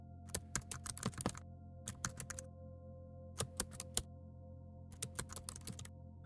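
Keys clatter on a computer keyboard while a card description is typed into Trello, crisp close clicks falling in quick bursts separated by short pauses, with no talk.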